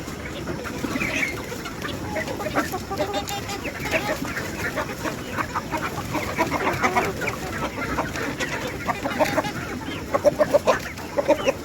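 Chickens on a poultry farm, birds reported sick with a virus and red eyes, clucking and squawking continuously as a dense, loud flock close by, with no talk.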